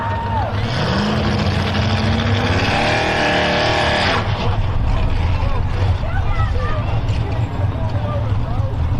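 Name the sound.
Predator 4 pulling truck engine revving at the line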